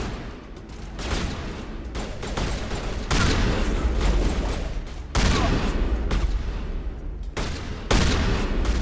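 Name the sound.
shotgun fire in Mass Effect video game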